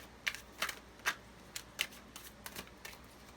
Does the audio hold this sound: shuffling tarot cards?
yes